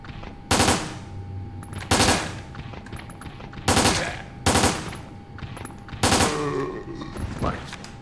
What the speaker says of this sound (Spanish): Esa pistola puede disparar ráfagas de 3 disparos, pero se bebe la munición.